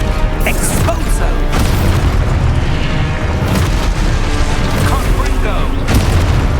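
Exposo explosion spell cast in Hogwarts Legacy, loud booming blasts and rumbling debris filling the whole stretch, dense and continuous rather than a single isolated hit.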